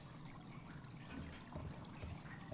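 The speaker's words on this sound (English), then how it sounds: "It's so quiet. The only thing you hear is water flow." Water flows and trickles inside a cave in the video game Far Cry New Dawn, a faint, steady pouring wash that holds throughout with no talk over it.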